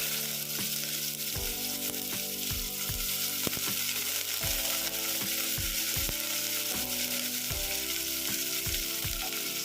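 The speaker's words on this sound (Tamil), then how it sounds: "வெங்காயம் நல்லா வதங்கிருச்சுங்க" Onions sizzle steadily in hot oil with mustard seeds, a constant close frying hiss broken by repeated soft taps of a spoon stirring the pan, with no talk.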